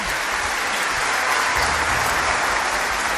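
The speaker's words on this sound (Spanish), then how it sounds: "El show terminó entre aplausos," An audience applauds at the end of a show in a hall, a dense, loud, continuous clapping that holds steady throughout.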